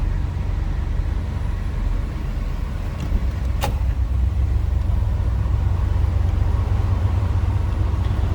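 A 1990 Chevrolet 1500 454SS pickup with a stock-sounding engine idles in a steady, low rumble throughout, with a brief sharp click partway through.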